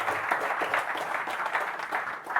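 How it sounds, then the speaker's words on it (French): Brief burst of audience applause at a marketing talk, a moderate patter of many hands clapping steadily for a couple of seconds. "Un petit tonnerre d'applaudissements dans le bruit."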